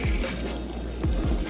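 Water from a tap runs over a dirty object being rinsed by hand, a loud, steady splashing rush broken by a few short slosh surges across a second and a half.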